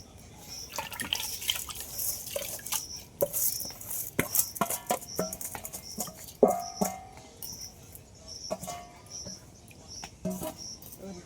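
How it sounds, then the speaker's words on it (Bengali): Rice and lentils for khichuri are rinsed by hand in water, heard as irregular splashes, drips and small clinks of the grains against the pot, fairly quiet and close. "এবার চাল আর ডালটা ধুয়ে নেবো ভালো করে"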